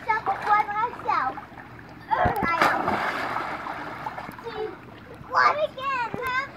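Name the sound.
child jumping into a swimming pool, splash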